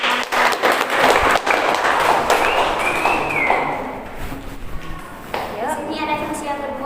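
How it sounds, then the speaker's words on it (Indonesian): A classroom of high school students breaks into loud, brisk applause that swells and then thins out, with a teacher's voice speaking over the tail end. "Kasih aplaus dulu biar semangat"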